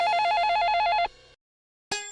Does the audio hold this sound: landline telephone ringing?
yes